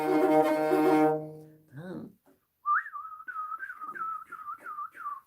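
A person whistles a wavering, airy melody imitating the wind, preceded by a sustained tonal note and a brief sliding sound; the whistle rises and falls like gusting wind.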